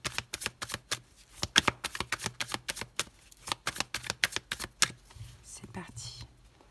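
Tarot cards shuffled and cut by hand in a steady run of crisp, riffling snaps and slaps, close and fairly loud, ending in softer rustling.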